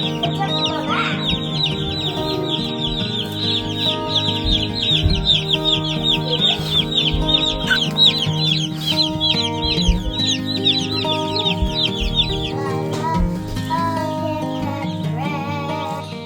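A crowd of chickens in brooders clucks and chirps continuously at close range, with busy overlapping calls and a few louder squawks, under a steady background hum.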